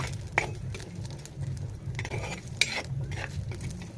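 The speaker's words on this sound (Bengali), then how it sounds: "এবার ভালো করে লাল করে ভেজে নেব" Sliced onions fry in hot oil with garlic and ginger for a south-style mutton curry, a soft steady sizzle under repeated scraping and clinks of a spatula stirring against the pan, close and moderately quiet.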